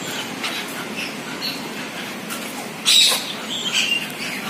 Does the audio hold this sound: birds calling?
yes